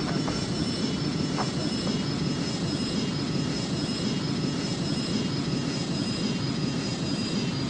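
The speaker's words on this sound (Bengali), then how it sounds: "গাইস, আমরা এখন ল্যান্ড করতেছি" Large passenger airliner in a video game coming in to land on an impossible runway, its engines a steady, loud roar that holds evenly throughout.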